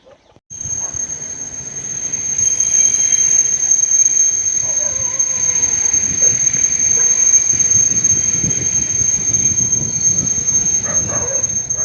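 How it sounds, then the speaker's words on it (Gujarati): A train pulls into a station with a loud, sustained rolling rumble of wagons and wheels and a thin high squeal riding above it, close by and continuous after a brief quiet start. "તો જુઓ આમ જો ટ્રેન જો તમે પહોંચી ગઈ છે"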